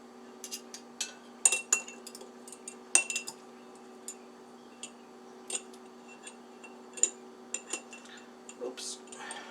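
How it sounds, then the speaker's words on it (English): An old-fashioned metal garlic press handled while crushing two garlic cloves in a kitchen, giving scattered faint metallic clicks and clinks at an uneven pace, with low room hum underneath. "I got my old-fashioned garlic press here. And I want 2 cloves of garlic."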